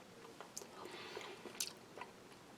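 Someone chewing soft, tender stewed pork from a Japanese Defence Force Type 2 ration, a sweet and sour dish with the fat still on. Quiet, close, moist chewing runs throughout, with a few brief louder crunches.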